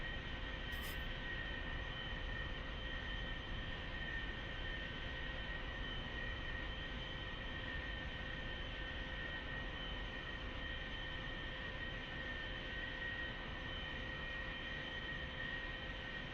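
A Douglas A-4E Skyhawk jet taxiing in the DCS World flight simulator, a steady unbroken engine drone with a constant whine running evenly throughout.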